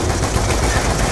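Automated gun turrets fire in a continuous, loud, dense stream of rapid shots during combat in the Call of Duty Black Ops 2 campaign, a relentless roar of gunfire filling the whole moment.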